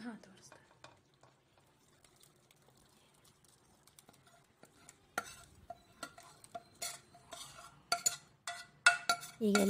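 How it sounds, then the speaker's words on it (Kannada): Spoon scrapes and clinks against a pot as spice masala is mixed into a Bisibele bath mixture, quiet at first, then louder with irregular sharp knocks and stirring strokes, alone without talk. "ಮಸಾಲೆ ಹಾಕಿ ಮಿಕ್ಸ್ ಮಾಡ್ಕೊಳ್ಳಿ"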